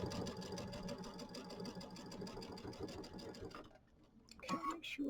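Sewing machine stitching a row onto a Kimberbell mini quilt with a quarter-inch seam, a rapid steady mechanical whir and tick, close, that stops near the end before a brief rustle.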